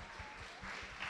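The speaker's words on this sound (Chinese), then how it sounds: "掌声有请 Lawrence" Brief, moderately loud clapping from a studio audience on a televised dating show, a steady wash of many hands with no voices over it.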